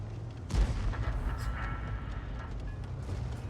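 Tank gun firing in World of Tanks from a GW E 100, a single sharp booming shot near the start followed by a rumbling decay under faint background noise.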